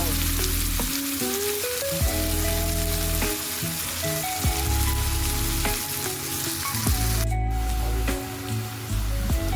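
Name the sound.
onion frying with curry leaves and green chillies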